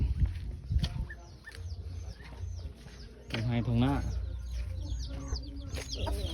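Chickens cluck and a rooster calls amid a busy outdoor festival crowd, with people talking over the birds throughout.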